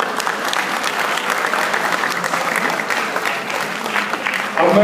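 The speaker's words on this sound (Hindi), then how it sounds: "मैं आपसे कहूंगा जोरदार तालियां बजाएं" Loud, sustained applause from a large audience fills the room throughout, welcoming India's External Affairs Minister S. Jaishankar at a public event in Janakpuri, Delhi.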